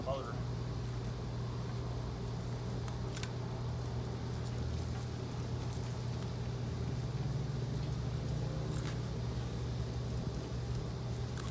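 A garden tiller motor strains as grass clogs its tines while tilling a fall garden: a continuous, moderately loud engine drone with a dense steady rumble and a few faint knocks.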